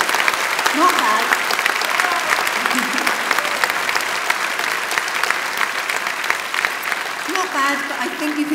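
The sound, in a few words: graduation ceremony crowd applauding louder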